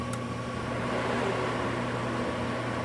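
A Sorensen SGA60X250D programmable DC power supply on 440-volt input, running: a brief click opens a steady, close, even fan and electrical hum that does not change.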